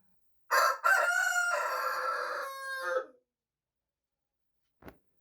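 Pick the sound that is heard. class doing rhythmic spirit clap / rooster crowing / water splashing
rooster crowing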